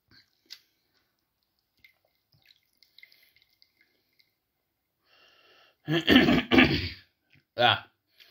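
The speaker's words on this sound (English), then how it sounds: "Apologies for coughing." Quiet faint clicks and drips, then a burst of harsh coughing up close, followed moments later by one more short cough.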